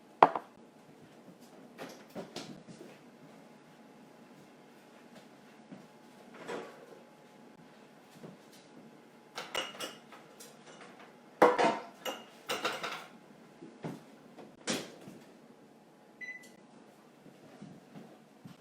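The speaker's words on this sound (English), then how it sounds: "I have to stop and take bread out of the oven." Kitchen clatter while bread is taken out of the oven: scattered clinks of pans and utensils, knocks like an oven door or drawer, spaced irregularly against a quiet room.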